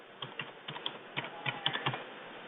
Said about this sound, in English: now you can just type in your customer's email